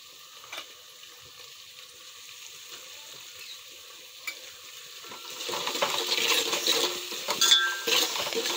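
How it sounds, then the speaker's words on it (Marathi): Chillies fry in hot oil as a tadka for kadhi, a soft sizzle growing louder and denser partway through, with faint clinks of a utensil against the pan and no voices. "छानपैकी मिरच्या भाजल्यावर तडका तयार झालेला आहे"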